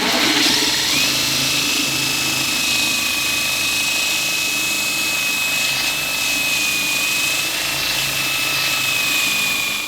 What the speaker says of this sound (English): Let's get this sanded down.